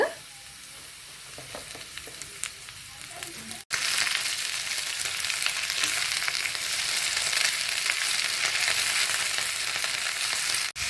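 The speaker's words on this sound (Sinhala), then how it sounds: "ඊළඟට අපි එකතු කරගන්නවා කංකුන් ටික." Water spinach (kankun) hits a pan of hot oil with dried shrimp for a Chinese-style stir-fry: a moderate sizzle with stirring, then after a brief break a louder, denser, steady frying hiss close by.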